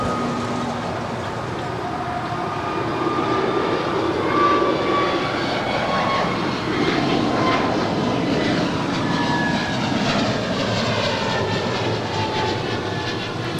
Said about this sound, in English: That was American 2112 departing to Dallas Fort Worth. It's a 1-year-old Airbus A321 Neo.